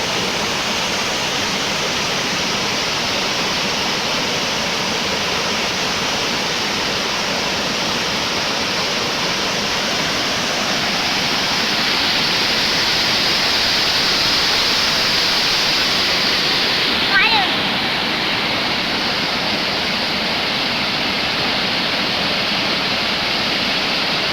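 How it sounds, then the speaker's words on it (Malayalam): Waterfall with water splashing hard, a loud, dense, continuous roar and rush close by with no voices over it. "ഇതാണ് നമ്മളെ വെള്ളച്ചാട്ടം"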